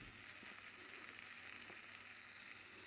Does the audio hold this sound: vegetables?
yes